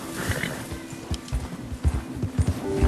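Galloping horse hooves in Red Dead Redemption 2, moving from snow onto rock and grass, drum a steady rapid clip-clop close up, with a low steady hum and occasional faint whinny underneath.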